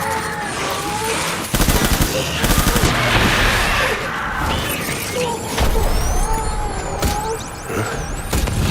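Bursts of gunfire crackle through a firefight in the video game Death Stranding, with rapid volleys and sharp shots over a busy battle mix, near and loud, while voices call out among the shooting.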